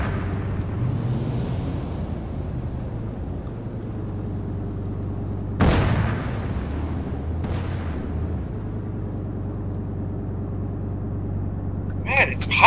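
A tank main gun fires in a military vehicle simulation game: two heavy booming blasts a couple of seconds apart, loud over a steady low engine rumble, with crew voices talking over it.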